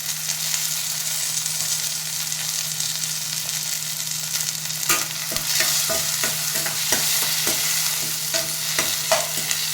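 Onion, green chili and curry leaves crackle in hot oil with cumin and mustard seeds, a steady close sizzle under a low hum, then a run of rhythmic spatula scrapes and taps in the second half.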